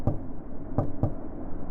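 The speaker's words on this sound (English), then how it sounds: "That night, Yasuke woke up after hearing somebody knock on the front door." Three knocks on a front door at night in a Japanese fairytale: two spaced raps, then a third close after, sharp and near over a low steady background hum.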